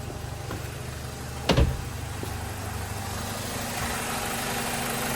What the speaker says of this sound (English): now you started the car, there's no warning lamps